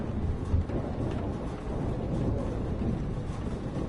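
A thunderstorm in the game Life is Strange, with steady heavy rain and low rumbling thunder making a dense, continuous roar and no talk.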